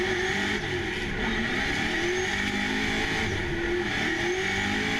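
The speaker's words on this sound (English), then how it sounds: "Listen to this engine roar" A drift race car engine roars continuously at Sydney Motorsport Park during a chase run, loud and sustained with revving swells and tire noise, no talk over it.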